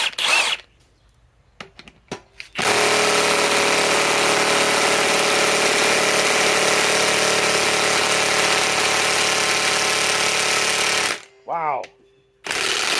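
A Ridgid high-torque impact wrench on a 3 amp Octane battery drives a 10 inch power lag, hammering loudly and continuously for about eight seconds, with brief talk before and after.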